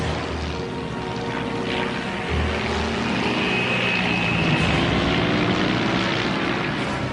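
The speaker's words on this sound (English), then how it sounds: "He opens the throttle, a life or death attempt to level the plane." A Dornier plane's engine roars loudly and steadily with the throttle wide open, a droning propeller sound that swells slightly partway through as the aircraft struggles low above a dam.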